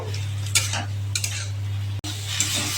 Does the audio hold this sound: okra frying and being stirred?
yes